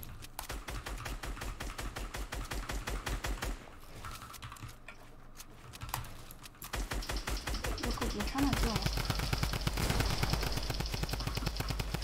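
Rapid bursts of automatic gunfire in a competitive shooter match, dense, loud and continuous with a brief lull mid-clip before the firing resumes heavier.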